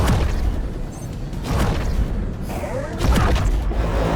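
Missile explosions in the space game X4 Foundations, dull booming impacts landing roughly every second and a half over a low rumbling background, heavy and close.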